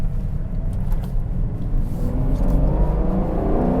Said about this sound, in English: You can probably hear that firecracker downshift